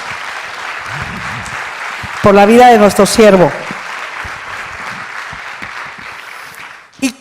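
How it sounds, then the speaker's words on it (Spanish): A church congregation claps steadily through a Sunday service, a broad, even patter of applause running beneath someone speaking loudly into a microphone, then fading out. "denle un aplauso al Señor"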